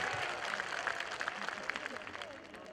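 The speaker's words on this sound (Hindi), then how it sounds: "इसमें तो ताली चाहिए" A rally crowd at a political gathering in Muzaffarnagar breaks into sustained clapping, a steady faint wash of applause heard from a distance with a few louder claps poking through.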